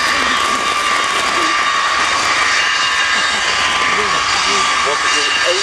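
The Avro Vulcan XH558 jet bomber roars overhead at an air show, a loud sustained engine rumble and whine filling the whole stretch, with voices talking over it.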